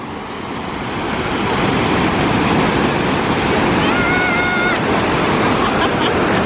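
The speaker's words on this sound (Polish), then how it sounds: "Duża fala, duża fala!" Loud surf on the Portuguese coast near Porto roars and washes continuously as a big wave breaks nearby, with wind buffeting the microphone.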